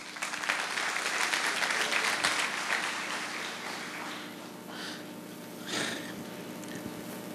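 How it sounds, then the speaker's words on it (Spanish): An audience at an oral litigation course breaks into dense, continuous applause that starts full and gradually thins, with a couple of brief louder swells near the end. "Un aplauso también"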